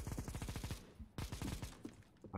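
Rapid gunfire in Counter-Strike: Global Offensive crackles in tight bursts, a quick string of shots, a short pause, then another volley, fairly quiet overall in the game mix.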